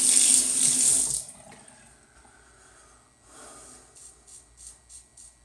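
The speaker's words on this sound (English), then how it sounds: "If you add some water, this stuff really comes alive." Water runs from a sink tap for about a second as a razor is wetted for a wet shave, then cuts off, leaving a quiet room with faint breathing and small soft splashes.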